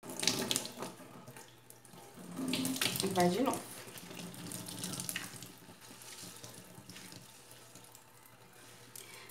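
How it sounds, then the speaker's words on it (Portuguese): Tap water runs and splashes loudly over soy protein in a kitchen, gushing hardest early on, then settling into a softer steady flow while a person speaks briefly in Portuguese. "Aí você vem aqui, coloca mais água."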